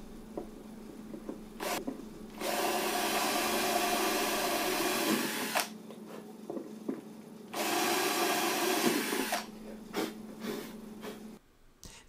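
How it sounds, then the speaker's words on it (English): A power drill bores string holes through the body of a handmade acoustic-electric Tele-style guitar: two long, steady, loud whirring bursts close by, separated and followed by quieter clicks and handling noises, with no talking. "I'm going to drill through each of these through the guitar for the strings to be"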